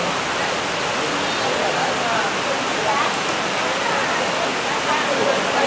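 Heavy rain pours down in Malaysia in a dense, unbroken roar of hiss and patter, loud and close, steady from start to finish.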